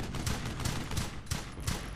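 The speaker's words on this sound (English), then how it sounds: "I need covering fire." Gunfire in the World War II shooter Brothers in Arms: Hell's Highway forms a dense, continuous battle din with several sharper shots standing out at irregular intervals over a steady roar, loud and close, with no voices.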